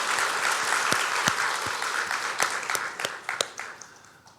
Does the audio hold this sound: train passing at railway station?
no